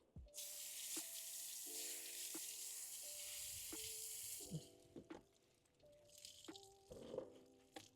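Water from a tap runs steadily over a dropped clay towel as it is rinsed off during car detailing, a broad hiss with brief splashes and drips near the end, no talking.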